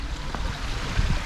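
A river in Bosnia and Herzegovina flows in a brief, steady rush of water noise heard at moderate distance, with no talking.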